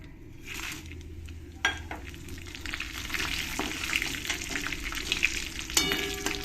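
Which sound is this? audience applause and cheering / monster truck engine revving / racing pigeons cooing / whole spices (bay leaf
whole spices (bay leaf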